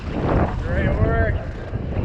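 Headwind buffets the microphone on a raft on an Idaho river, a loud rumbling gusty roar with rushing water, while voices call out faintly underneath.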